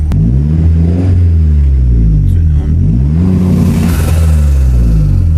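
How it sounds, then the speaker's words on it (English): Mazda MX5 with anti-lag enabled, its engine blipped and revving loudly up close in a deep rising and falling rumble that builds and holds throughout. "So I've enabled the anti-lag. Give it a quick blip."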